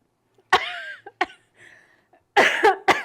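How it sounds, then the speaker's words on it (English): Several harsh, close coughs in quick bursts, with a short pause between fits and a couple of final hacking coughs near the end. "I can't stop coughing."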